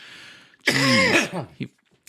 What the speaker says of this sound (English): That you did cut out a bunch of my coughing